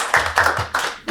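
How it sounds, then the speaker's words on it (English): A host claps his hands for a guest, giving four or five sharp, close claps in a quick, even rhythm that stand out clearly, with a faint voice at the end. "I'm going to give you a clap myself."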